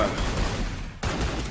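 Rapid barrage of gunfire in the mobile battle royale game Free Fire, crackling bursts under a busy mix that dip briefly near the middle before the firing resumes.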